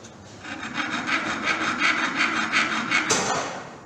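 Hand filing with a triangle file across a hacksaw-cut metal workpiece, a steady run of about ten close, loud rasping strokes in even rhythm, ending with a brief sharper scrape.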